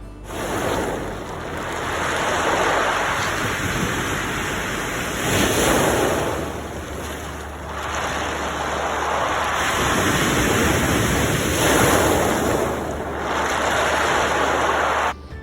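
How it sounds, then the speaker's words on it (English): Lake Superior waves wash onto the Minnesota North Shore in repeated surging swells, a steady loud roar that rises and falls every few seconds. "the waves make a lot of noise"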